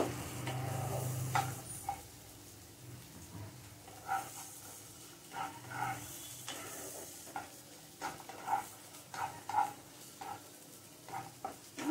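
Onions and other ingredients frying together in a pan for chira pulao, a flattened-rice pulao. A quiet, low sizzle runs underneath, broken by intermittent scraping stirs.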